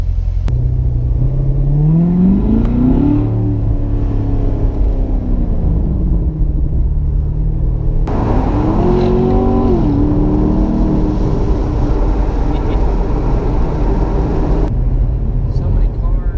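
A Corvette engine rumbles low and steady while driving, rising in pitch twice as it revs and accelerates, close and loud throughout with an occasional voice underneath.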